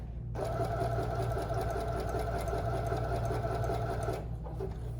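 A sewing machine runs steadily for several seconds, stitching a purple swirl on a fabric project, with a fast even mechanical whir and needle rhythm close by before stopping abruptly.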